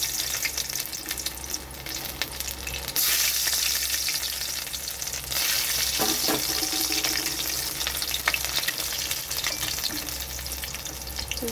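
Chopped garlic hits hot mustard oil in a wok, giving a loud, steady sizzle that surges partway through and carries on with a few stirring scrapes, with no talking.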